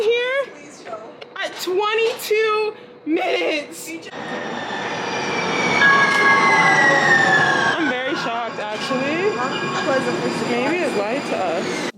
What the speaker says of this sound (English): why is the train coming?